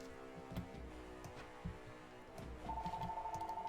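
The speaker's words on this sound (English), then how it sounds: "Not an important phone call." A telephone rings in a steady warbling tone that comes in partway through, over a bed of background noise and scattered knocks.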